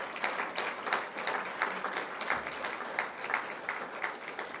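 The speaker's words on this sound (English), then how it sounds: "Please give him a round of applause" At a commencement ceremony, an audience gives a round of applause, heard as a steady, moderately faint patter of many hands clapping with slight rhythmic swells throughout.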